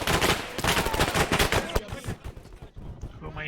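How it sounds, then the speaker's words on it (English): Heavy gunfire in the Arma 3 military video game: continuous overlapping automatic bursts and rapid shots, loud and close, thinning into scattered reports, with shouted voices mixed in. "Taking fire! Taking fire"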